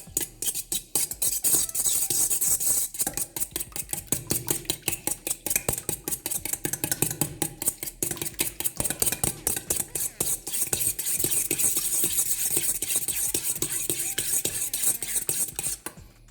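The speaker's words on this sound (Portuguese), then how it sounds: "Antes de adicionar os ovos, eu sempre dou uma batidinha neles." Rapid rhythmic clinking of a utensil against a bowl as eggs are beaten for homemade bread, a steady fast tapping that pauses briefly near the start and runs on close and clear.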